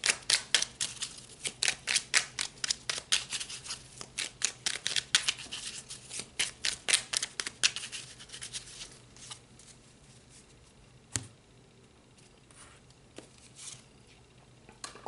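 Tarot cards are shuffled by hand in quick bursts of crisp riffling snaps, dense for the first eight seconds, then fading to a few isolated taps and a single card slap; close and quiet, no talk.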